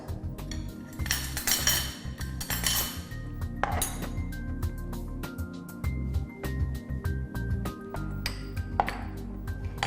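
A spoon clinks and scrapes steadily against a bowl while soy oil, sesame oil, salt and white pepper powder are mixed, making busy, close metallic taps and rattles with no talking.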